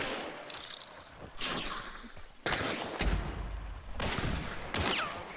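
Gunfire in the video game Hunt: Showdown: several sharp shots crack in separate bursts, some with echoing tails and mechanical clicks, moderately loud.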